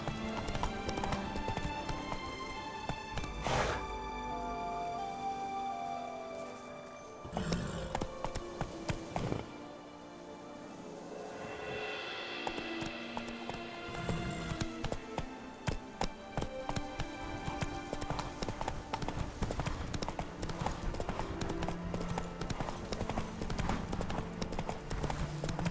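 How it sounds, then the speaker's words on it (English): Horse hooves clip-clop in a steady rhythm in the video game Witcher 3, close and continuous, with brief pauses and a few louder thuds. "Whoa there, Roach"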